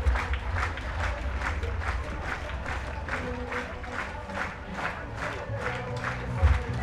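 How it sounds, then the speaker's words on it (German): Audience clapping in rhythm at an outdoor high jump event before the Ehrenbreitstein fortress, steady regular claps from a crowd with cheering and crowd noise throughout. "da klatschen noch nicht alle mit"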